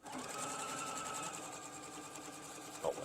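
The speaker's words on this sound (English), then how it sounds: "with our 1/4-inch stitch, I need the foot pedal here, we're going to sew this on." A sewing machine sews a quarter-inch seam on a quilt block, running quickly and evenly at close range for about three seconds.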